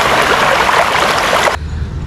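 A waterfall on a trip in Kerala pours in a steady, loud broadband rush that cuts off abruptly, leaving a low rumbling murmur.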